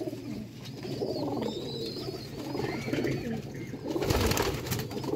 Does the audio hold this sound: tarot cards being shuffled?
no